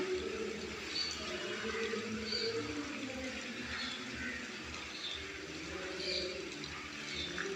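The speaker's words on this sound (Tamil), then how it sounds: "தண்ணி விழுது பார்த்திங்களா மழை தண்ணி" Steady rainwater falling and splashing, a continuous wash of sound with faint bird calls in the background.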